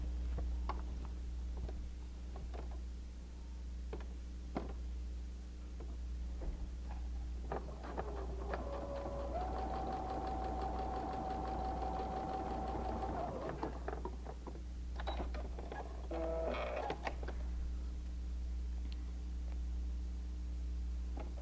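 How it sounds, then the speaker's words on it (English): Sewing machine stitching a seam on a paper-pieced Christmas elf mug rug, a steady mechanical run of about four seconds in the middle, set among light ticks and handling noises over a constant low hum. "And I'm going to sew on the line between number 3 and number 4."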